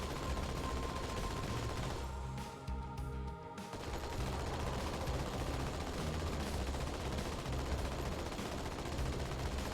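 Rapid gunfire in a Halo video game aimed at a vehicle's driver, a dense sustained burst of shots that breaks off briefly and then resumes, loud and continuous, with no voices.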